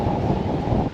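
Steady wind with small sea waves lapping at a long seaside pier in Palanga, a constant broadband rush close to the microphone with no voices.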